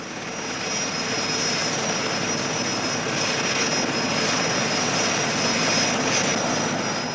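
A North Sea oil platform aircraft ferrying workers in the Brent field drones steadily with a broad engine roar and a faint high whine, constant and fairly loud throughout, with no voices.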